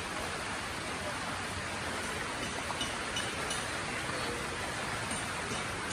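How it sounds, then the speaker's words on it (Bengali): Heavy rain falls steadily outside a house, a dense, even hiss with no letup or gaps and no voices over it. "বাইরে তো বৃষ্টি পড়ছে প্রচন্ড পরিমাণে, সারাদিন বৃষ্টি হচ্ছে"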